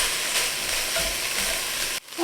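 Half a cup of carrots sizzle steadily in a hot pot for a sustained stretch, then the sound cuts off abruptly near the end.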